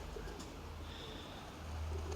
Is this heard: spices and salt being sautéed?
no